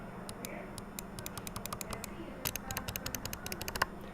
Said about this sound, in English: Now we're gonna test the sound clicks of the Skiller mouse.